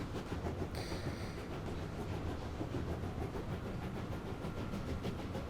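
A steam locomotive in the game Train Life, hauling the Orient Express low on coal, runs steadily with a dense continuous rumble and rhythmic chuffing, plus a brief hiss of steam early on, with no talking.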